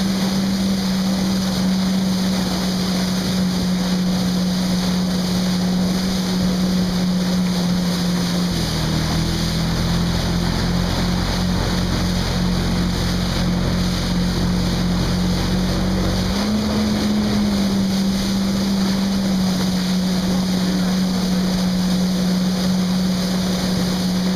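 A jet ski engine drones steadily on the water of the Šibenik channel, its pitch dropping and roughening midway as the throttle changes, then climbing back to a higher steady whine, with wind buffeting throughout.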